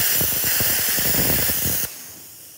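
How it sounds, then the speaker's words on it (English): Plasma cutter slicing through damaged steel on a bulk container chassis dolly leg structure, a loud steady hiss with crackling spatter that stops abruptly near the end, leaving quiet shop air. "Continue to use your plasma cutter or torch to remove all the damaged sections of the structure"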